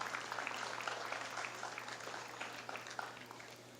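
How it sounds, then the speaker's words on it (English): Audience at a youth talent competition clapping for the program organizers, steady, moderately distant applause with dense overlapping claps and a faint mains hum underneath. "let's give them a big round of applause for that"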